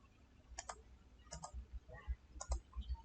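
Computer mouse buttons clicking in quick paired taps, three sharp double clicks spaced about a second apart, close and faint with no talking.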